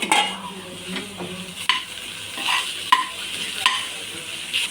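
Tomato stirred and fried in a pan for chapathi noodles, a loud close sizzle broken by repeated spatula scrapes and metallic taps against the pan at uneven intervals.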